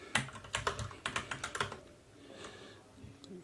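Someone types C code on a faulty computer keyboard: a quick burst of about a dozen crisp, close keystrokes, then a quieter stretch with a couple of soft taps.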